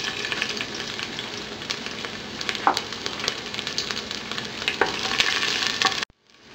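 Garlic sautés in hot cooking oil in a pot, a continuous close sizzle with occasional stirring scrapes, cutting off abruptly at the end.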